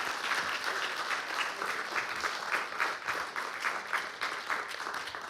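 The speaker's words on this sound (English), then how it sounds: "one round of applause for Michael." An audience at a talk about Tony Sarg's sea monster applauds with steady, even clapping that carries on for several seconds at moderate volume with no voices over it.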